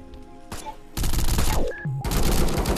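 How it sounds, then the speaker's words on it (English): Video game shotgun blasts ring out in loud, dense bursts that start abruptly and carry on with only brief gaps, with game effects in between and no speech. "The shotgun's pretty good."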